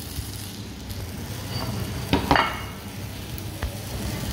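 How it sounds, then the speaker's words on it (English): Soft, steady sizzling crackle of crumbed sourdough schnitzel baking in a hot oven, with a couple of brief clinks and knocks partway through; no voices. "Can you hear that sizzle?"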